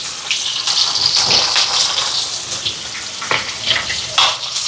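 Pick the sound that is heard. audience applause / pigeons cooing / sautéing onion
sautéing onion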